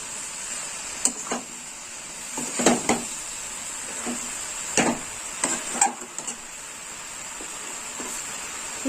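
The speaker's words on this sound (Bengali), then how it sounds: "এবার একটু নেড়ে চেড়ে নেবো।" A spoon stirs dahi sabji with mixed vegetables in a pan, giving scattered scraping knocks and clinks, some in quick pairs, over a steady low hiss.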